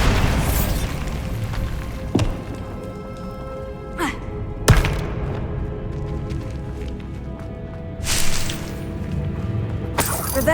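A Bombarda spell blast in the Hogwarts Legacy game, several sharp explosive booms and shattering impacts over a rumbling battle background, with loud bursts near the start, middle and end.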